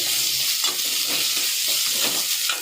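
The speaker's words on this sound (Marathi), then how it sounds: "त्याचा कच्चा वास असतो तो चांगला निघेपर्यंत परतून घ्यायचा।" Ginger garlic paste with curry leaves, onion and tomato sautés in a hot pan, giving a loud, dense, unbroken sizzle with faint stirring scrapes mixed in.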